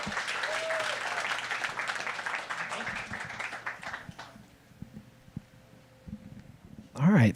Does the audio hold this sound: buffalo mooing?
no